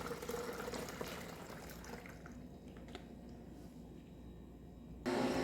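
Watermelon juice pouring through a strainer into a cup, a steady liquid trickle and drip running continuously and fairly close, with a brief louder burst near the end.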